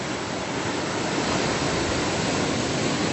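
A raging river running high and fast after rain, unusually rough where it is normally calm, giving a loud, steady, broadband roar of rushing water with no voices over it.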